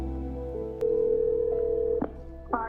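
A cell phone places a call to 911, sounding as a steady electronic ringback tone that holds for about a second before a click and short connection noises follow.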